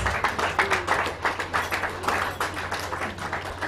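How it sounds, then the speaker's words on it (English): Audience applause at a curriculum development workshop, a steady wash of many hands clapping, fairly close and continuous for several seconds with no talk over it. "I think we can just give her a more resounding applause."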